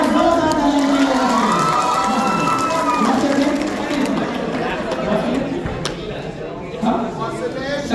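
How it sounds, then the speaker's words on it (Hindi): A large seminar audience in Butwal, Nepal responds with sustained, loud cheering and crowd noise, many voices shouting and chattering together throughout, applause blended into the roar. "एक बार जोरदार तालियां बजाइए।"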